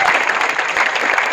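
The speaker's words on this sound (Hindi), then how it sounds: "एक बार जोरदार तालियां।" Loud, dense applause from an audience at an album launch after a dance performance, steady clapping filling the short moment.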